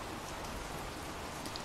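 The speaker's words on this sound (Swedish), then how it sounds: "Sen började det regna och det regnade i 40 dagar." Steady rain pours down in a dense, even hiss that holds constant throughout, with no voices or other sounds over it.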